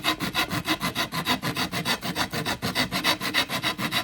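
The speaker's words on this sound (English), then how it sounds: "does this thing take off the wood. This thing gets it done, man. So this is poplar" A tool sanding poplar wood on a cigar box guitar gives a steady, loud rhythmic scrubbing, about four abrasive strokes per second, throughout.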